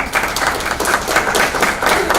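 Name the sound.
audience applause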